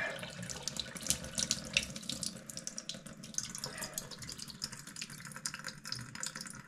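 Water drains quickly out of a pond filter, a close, continuous gushing and splashing with irregular gurgling surges throughout.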